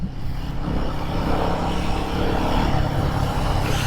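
A Royal Enfield Guerrilla 450 motorcycle engine drones steadily while riding through city streets, with loud, continuous rumble and wind noise and a slight swell toward the end. No one speaks over it.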